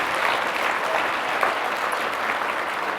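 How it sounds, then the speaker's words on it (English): Audience at an awards gala applauding steadily and warmly, a dense, even wash of clapping from a large crowd that holds level throughout. "give a warm round of applause for Julia Reimer"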